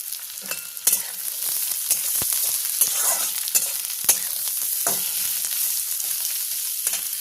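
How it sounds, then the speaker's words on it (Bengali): Onions frying in a hot pan for Bengali-style brinjal bharta, a continuous bright sizzle with scattered spatula scrapes and clicks, close and fairly loud, no speech. "পেঁয়াজটা হালকা লাল করে আমি ভেজে নেব।"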